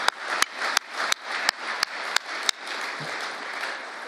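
Audience applause during a presidential speech at the Justice Department, a steady wash of clapping punctuated by regular sharp thumps, fading slightly toward the end.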